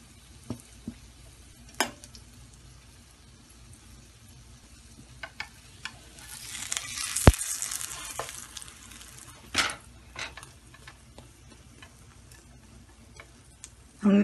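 An egg frying in a pan after being started on high heat and turned down to medium-low, giving a soft continuous sizzle with scattered ticks and taps and a brief louder burst of crackling midway.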